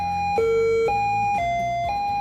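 A vehicle warning sound system, distinct from an air horn or siren, alternates between two steady electronic tones in an even rhythm of about half-second steps, clear and unbroken with no talking.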